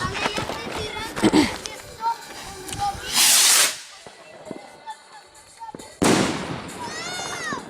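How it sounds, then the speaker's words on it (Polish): A large rocket firework launches on New Year's Eve with a loud rushing whoosh, followed moments later by another broad hissing burst, while people talk and other fireworks crackle in the background. "Największa rakieta."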